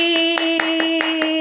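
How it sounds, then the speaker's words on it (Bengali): Hands clap in a quick, even rhythm, about six sharp claps close by, over a steady tonal hum. "হাততালি হাততালি হাততালি।"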